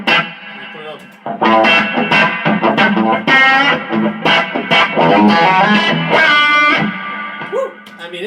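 Electric guitar played with a clean tone through an EP boost pedal and a Wampler reverb pedal, loud plucked chords and single notes ringing out with a reverb tail across most of the passage, with brief talking at the start.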